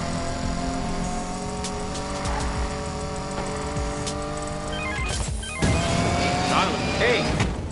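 A car engine drones steadily while driving home in a video game, with a sharp knock and rougher engine roar near the end, voices talking over the vehicle.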